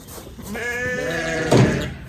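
Sheep bleating on a farm while an electric fence is being set up, one drawn-out wavering bleat rising into a louder, harsher cry near the end, close by with steady background noise.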